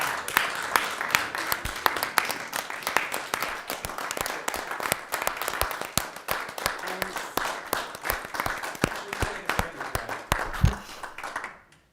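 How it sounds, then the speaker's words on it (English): An audience at a city council meeting claps for a departing volunteer, sustained moderate applause with sharp individual claps standing out before it tapers off at the end. "So can we all just give her one more round of applause and a thank you very much?"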